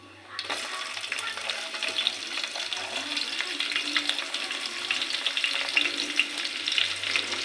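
Onion frying in a pan for kuska, a steady bright sizzle with occasional stirring scrapes, starting abruptly as the onion goes in and continuing evenly at close range.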